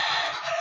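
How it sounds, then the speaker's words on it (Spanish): A short, loud burst of a young gamefowl cockerel's crow, about four months old, strained and sustained, cut off within a second. "Hijo del gallo Jade por gallina Jade"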